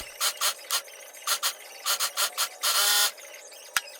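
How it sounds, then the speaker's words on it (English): A sewing machine stitches swimwear fabric to its lining in short bursts of whirring, a rhythmic run of quick pulses followed by one longer steady run and a final click, close up with no talking. "Here I am sewing together the outside, later and the lining together"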